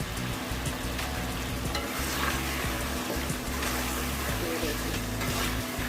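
Lahori beef karahi sizzling and frying in oil in the pan, a dense, constant crackle with occasional stirring, loud and close.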